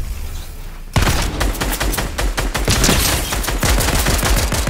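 Assault rifle fire in Fortnite erupts after a quiet second into a loud, dense string of rapid shots, continuous and close, with no voices.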